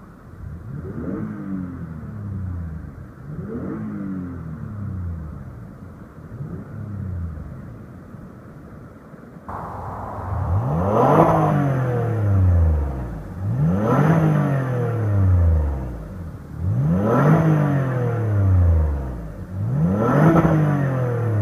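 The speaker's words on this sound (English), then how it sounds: "Let's go ahead and give it a few revs." A 2015 Lexus RX 350 engine idling and then blipped repeatedly, each rev rising and falling in a smooth sweep, heard up close with the hood area nearby, louder in the second half with no voices.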